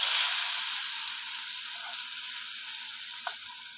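Onion dropped into hot oil with mustard seeds, cumin, asafoetida and curry leaves, a loud hissing sizzle that surges at first and then settles into a steady hiss with one small crackle near the end.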